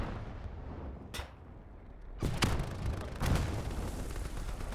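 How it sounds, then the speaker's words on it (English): Mortar shells in the game Squad 44 slam into a compound, giving several heavy booms about a second apart, the later blasts louder and closer, over a constant rumble of battle. "Mortars now coming in onto the compound, doing some work and racking up some kills."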